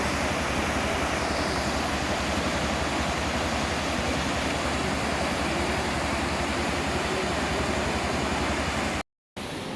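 A waterfall pours in a steady, dense roar that fills the whole stretch without letup, loud and close, with a short dropout near the end and no voices.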